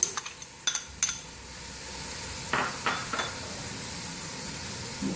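Bone-in mutton frying with onions and garlic-ginger paste in a pot, a few sharp metallic clanks of a utensil up front, then a steady hissing sizzle with brief stirring scrapes; no one speaks.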